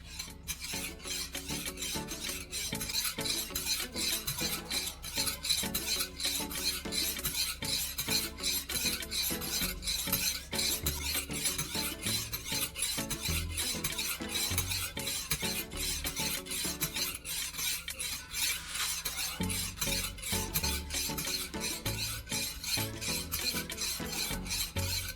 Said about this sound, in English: After working through the coarse grit, move to the 1000 grit again.